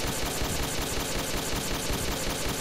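Dense rapid gunfire rattles in a prison level of a video game, a steady loud barrage of shots with no clear gaps and no talking.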